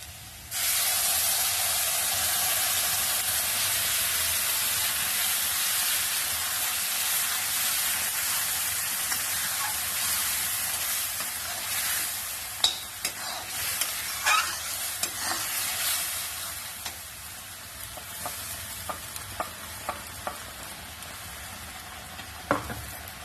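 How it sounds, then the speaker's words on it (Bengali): A paste of onion, tomato, ginger and garlic hits a hot pan with a loud, hissing sizzle that gradually softens, followed by repeated sharp stirring clicks and scrapes in the second half. "এবার আমি পেস্টটা বানিয়েছিলাম, পেঁয়াজ, টমেটো, আদা, রসুন, সেই পেস্টটা আমি ঢেলে দেবো।"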